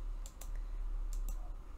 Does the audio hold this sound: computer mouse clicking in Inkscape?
yes